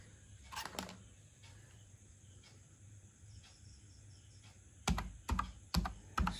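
Keystrokes on a computer keyboard while setting up a Raspberry Pi 4: a few isolated taps early, then a quick cluster of sharp clicks near the end, close and crisp over a faint steady electronic whine.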